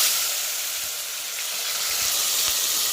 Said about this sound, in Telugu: ఆయిల్ అయితే బాగా వేడైంది కదా ఉల్లిపాయ టమాటా పచ్చిమిర్చి వేసుకున్నాం